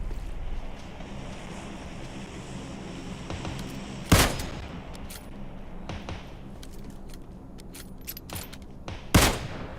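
Gunshots in a first-person shooter video game, two sharp loud cracks spaced about five seconds apart over a steady background of ambient wind and water-like game noise.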